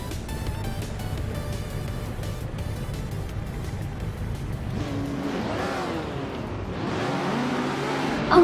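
Race cars in a racing video game roar off the start at the Auto 24 ring track, a dense layered engine din with rising revs and tire squeal, steady and loud, building into sweeping accelerations in the second half.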